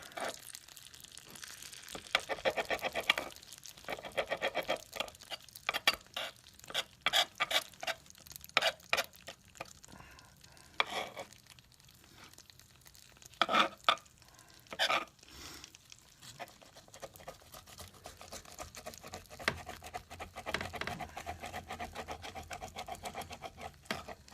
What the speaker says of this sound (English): I'm going to cut this delicious pizza into 4 serving slices